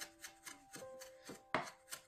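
Pork is minced finely with a knife on a cutting board, giving faint, rhythmic chopping taps about four times a second, with one sharper hit partway through.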